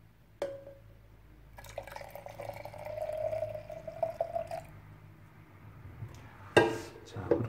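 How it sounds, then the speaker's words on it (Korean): Milk is poured into hand-drip coffee for a caffe latte, a soft trickling stream running for several seconds, quiet and close, with a few small clinks around it. "우유를 부어줍니다."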